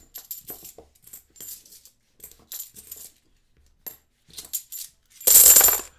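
Coins clink and rattle in scattered small bursts as hands sift through a Federal Reserve bag of coins, then a louder burst of coins pours out near the end.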